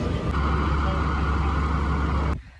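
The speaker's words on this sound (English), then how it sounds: "It's so freaking loud because there's so many buses" Heavy bus and traffic noise at a busy downtown city bus stop, a loud continuous engine rumble and roar from passing buses that cuts off abruptly near the end.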